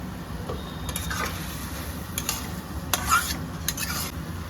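Steady sizzling of okra and egg frying in a pan, with a spatula stirring and scraping a few times; no voices.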